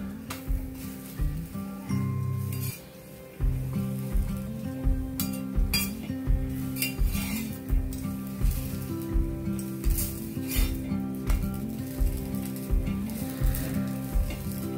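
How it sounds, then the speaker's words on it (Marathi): Sanjori poli flatbread roasts on a hot, lightly oiled pan over medium-high gas. A constant loud sizzle is broken by regular rhythmic pressing and scraping strokes, with occasional utensil clinks and no talking. "मीडियम टू हाय गॅसवर ही पोळी छान शेकून घ्यायची आहे."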